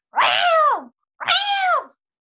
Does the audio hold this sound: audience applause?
no